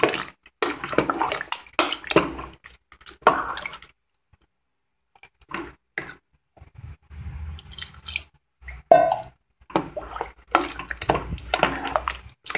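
Water poured into a pot of vegetable sambar, several separate splashing pours and drips with short silent gaps between them, close and fairly clear.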